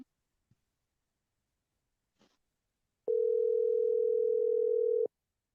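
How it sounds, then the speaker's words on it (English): A steady telephone dial tone sounds while a call goes out to the Tobago House of Assembly chief during a radio show. A few faint clicks come first, then the clean continuous tone holds for about two seconds before cutting off. "we are calling the THA chief, the Tobago House of Assembly chief, Mr. Farley Chavez Augustine"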